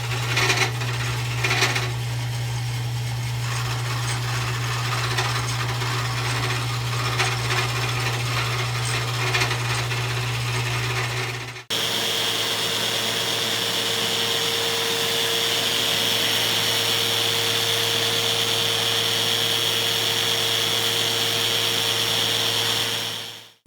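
A wood lathe turns steadily while a skew chisel takes a very light cut, giving a continuous whirring hum with faint scraping. Partway through, the tone shifts abruptly to a higher, brighter whine that holds steady until the end.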